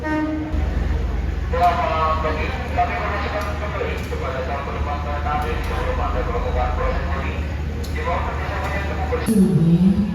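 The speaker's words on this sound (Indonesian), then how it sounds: "Itu lagi langsir lokomotif Serayu teman-teman yang akan menuju ke Purwokerto." A Serayu locomotive shunts at a busy station on the Jakarta line, its low engine rumble steady throughout with a few faint horn-like tones and clanks, while people talk in the background.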